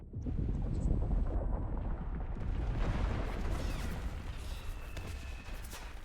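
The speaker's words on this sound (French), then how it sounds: "Frappe d'artillerie, sympa." Artillery strike in a battlefield video game, a dense rumbling roar of blasts and crackling impacts that swells and stays loud for several seconds, with wind-like noise over the top.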